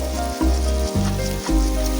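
Duck meat cooked with ginger and garlic fries in a hot pan with loud, close sizzling. Stirring makes the sizzle surge in several rhythmic waves.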